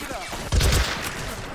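A machine gun firing in Men of War Assault Squad 2, a short, dense burst of rapid shots with a heavy thump near the middle, up close and loud amid game noise.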